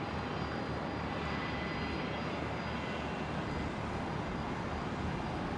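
Velocity 73 aircraft arriving at Brisbane airport, a steady, fairly faint broadband engine roar heard from a distance that holds evenly throughout without change.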